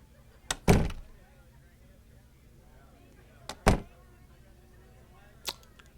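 A door bangs shut several times, a sharp thud followed by a short echoing slam and, later, a lighter knock, each separated by quiet room tone.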